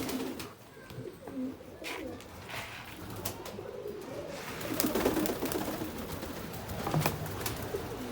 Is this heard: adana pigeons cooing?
yes